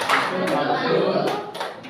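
A classroom gives a short rhythmic clapping cheer, a few sharp clap accents standing out over continuous talk and children's voices nearby.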